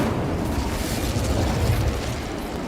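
Incendio fire spell cast in Hogwarts Legacy, a loud, close, rumbling whoosh of flame with booming, crackling texture held steady for a couple of seconds.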